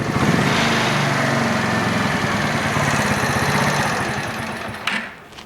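A faulty motorbike engine runs with a steady, throbbing idle, then sputters and cuts out, leaving near silence.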